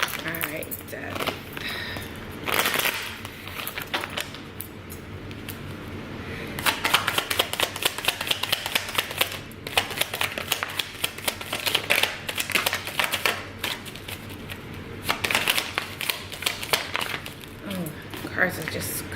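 Tarot cards being shuffled and dealt in quick bursts of papery riffles and flicks, close by, interleaved with someone talking quietly between the bursts.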